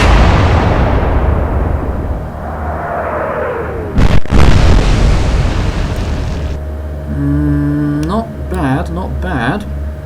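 In the Atlantic Fleet naval game, Royal Navy and Kriegsmarine warships trade gunfire: a heavy, rumbling cannon boom fades, then a sharp, loud blast erupts midway. Whining tones and a voice follow afterward.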